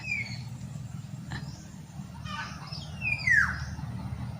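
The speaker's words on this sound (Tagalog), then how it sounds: "dalawang ibon yan babae, babae at saka lalaki malamang yung malakas ang hoo ni lalaki yan eh" Two birds calling outdoors near cassava plantings, a few thin chirps and then a louder descending whistling hoot, over a steady low background hum.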